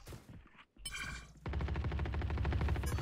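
The Odin machine gun in a video game opens up with a rapid, sustained automatic burst, loud and close, after a brief gap and some shorter shots.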